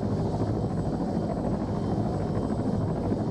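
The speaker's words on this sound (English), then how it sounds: "seen the helicopter come in, land, take off, just fly off with it" Steady low rotor thrum and engine drone, like a helicopter at a moderate distance, constant and fairly quiet with some wind buffeting.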